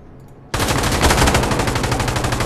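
Squad machine gun firing in Insurgency Sandstorm: a sudden, loud, sustained automatic burst that kicks in after a brief quiet lead-in and hammers on in rapid, unbroken rhythm to the end.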